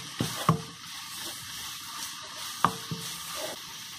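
Turmeric and chili powder frying in a pan for a Kerala-style chicken curry produce a steady, moderate sizzle punctuated by a few sharp clinks of a spoon against the pan.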